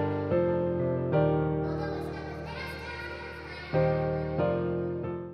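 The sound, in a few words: piano sample with vintage reverb and delay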